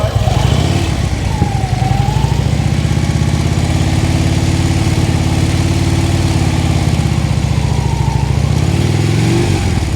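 A motorcycle engine runs during slow-speed riding practice, a loud, close, continuous drone that holds steady with small shifts in pitch throughout.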